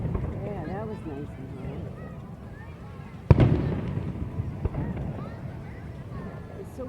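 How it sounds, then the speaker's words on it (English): Fireworks go off outdoors, one sharp loud boom followed by a few fainter pops and crackles, heard under steady background chatter and ambient noise as people talk nearby. "There's the fireworks."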